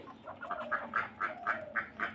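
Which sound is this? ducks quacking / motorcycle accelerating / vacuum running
ducks quacking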